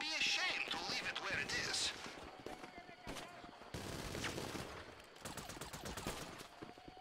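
Minigun gunfire in GTA V Online, with long rapid bursts of automatic shots rattling in several volleys, fairly distant and low in level, with people talking over it.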